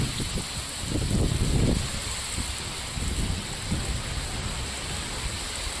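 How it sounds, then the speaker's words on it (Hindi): Heavy rain falling across Delhi NCR during a storm, a dense steady roar of downpour with rumbling low gusts swelling and fading, no voices. "किस तरह तेज बारिश दिल्ली एनसीआर में इस वक्त हो रही है"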